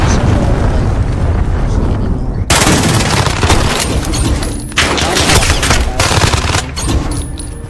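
Rapid automatic Vector SMG fire in Call of Duty Modern Warfare, loud close bursts of dense gunshots in quick succession with brief pauses, alongside other battle noise.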